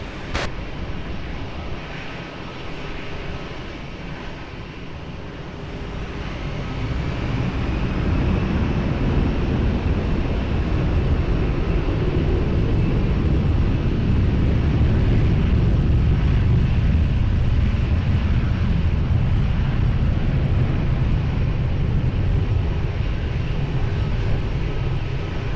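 An airliner taking off from runway 20 at Lisbon Airport, its engine roar swelling from a distant rumble into a loud, steady broadband thunder that holds to the end.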